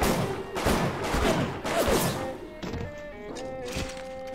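Gunfire in the video game Bioshock Remastered: a dense, loud burst of shots and impacts in rapid succession that trails off into quieter game sounds and tones.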